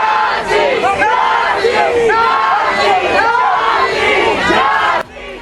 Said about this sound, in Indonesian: Kerumunan massa berkumpul melayangkan protes dengan teriakan slogan menentang imigrasi dan bea cukai ICE Amerika Serikat